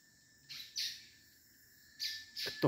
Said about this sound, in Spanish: Estos pajaritos ahí andan.